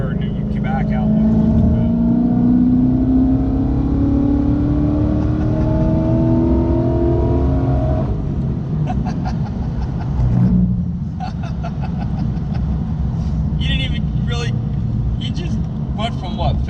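An 800+ horsepower Ford Mustang engine pulls hard through the gears, its loud close roar rising in pitch, dropping at a shift and climbing again, with excited voices talking over it inside the car.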